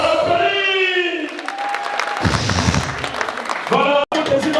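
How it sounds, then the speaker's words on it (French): Wedding guests applaud and cheer at a religious wedding celebration, a dense wash of clapping with shouts and voices mixed in, loud and close throughout. "On applaudit."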